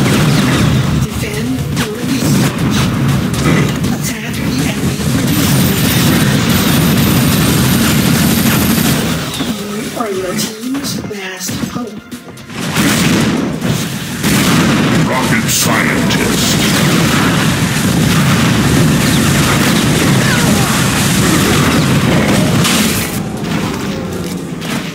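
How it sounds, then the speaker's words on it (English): Continuous gunfire and booming explosions from an Unreal Tournament III Jailbreak match, dense and loud for most of the stretch with a brief lull midway, as game voice callouts sound over the battle. "I'm taking heavy fire."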